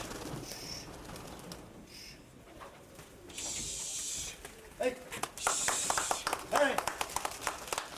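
Soft pigeon coos and bird calls come through amid outdoor chatter and scattered claps, with a louder burst of activity toward the end.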